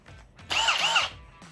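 A handheld power drill revs in one short burst of about half a second, a loud, close, whining spin-up that winds down quickly, with faint handling noise before and after.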